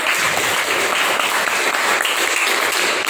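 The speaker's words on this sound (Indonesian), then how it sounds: "jadi tepuk tangan buat Alif" A class of ninth-grade students in a fiqh lesson on aqiqah claps for their classmate Alif: an even, close patter of many hands for about three seconds, with no talk over it.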